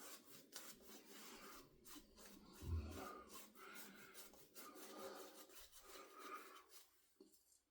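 A small 22 millimeter shaving brush with a wood and chrome handle works whipped lather onto a face, giving a close, soft, continuous bristly rasping and swishing with a slightly louder bump midway.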